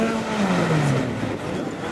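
At an autocross race meeting in Guer in 2013, a race car in the 2-litre open class drives past on the circuit, its engine note sliding downward. The sound is steady and moderately loud, with no talk over it.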